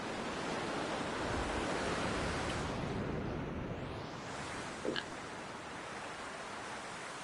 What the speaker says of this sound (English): I do like this little waterfall area.